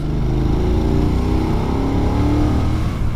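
A KTM or Yamaha twin-cylinder motorcycle engine pulls steadily in 4th gear from about 2,500 rpm, a loud, continuous low throbbing drone with no pause and no voices over it.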